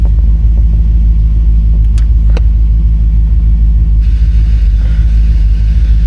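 A 1962 Chevrolet Impala SS engine idles right after a cold start, a loud, steady low rumble with a few faint clicks and no speech.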